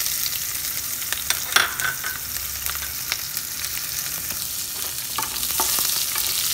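Finely chopped onion frying in hot oil with already fried cashews for veg pulao, a steady bright sizzle running throughout with occasional light stirring clicks, close and fairly loud.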